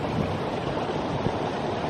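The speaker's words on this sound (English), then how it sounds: "this is the best creek I've had in a while" Mountain creek on a New Zealand walking track, water rushing steadily and fairly close as a broad, even wash with no voices over it.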